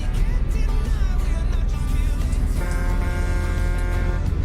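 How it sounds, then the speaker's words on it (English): A flatbed truck's horn honks on a European road near a tunnel. A thin, steady horn tone enters partway through and holds under loud, continuous road and engine rumble. "That's such a weak horn."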